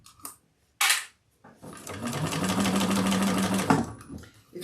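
A close cylinder-arm sewing machine runs a short steady burst of top stitching on a hobo bag, with a few clicks and taps before it starts and after it stops.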